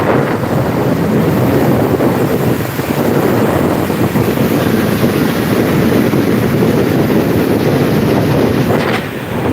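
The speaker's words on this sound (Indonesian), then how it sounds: "Wow, kencang sekali anginnya," Strong wind buffets a microphone by the sea, a loud, steady roar of rumbling gusts that fills the whole stretch with no voices, fading slightly near the end.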